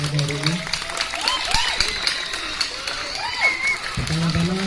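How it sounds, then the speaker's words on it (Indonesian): Junior high students of SMP Angkasa applaud at a school student council election gathering, steady crowd clapping mixed with voices and a few lively shouts. "tepuk tangan dulu untuk kalian atas semangat hari ini"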